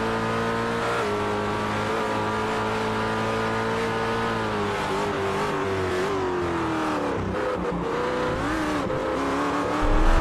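Race car engines, including a Ford GT, scream in a sustained, high-pitched drone at Sebring, the note shifting and dipping as throttle changes, loud and close throughout.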